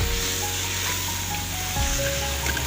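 Radish pods (moongre) frying in hot oil in a pan, a close, steady crackling sizzle that holds loud and even from start to finish, with faint tonal hum underneath.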